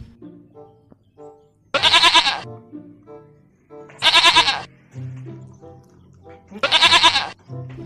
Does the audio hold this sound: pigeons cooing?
no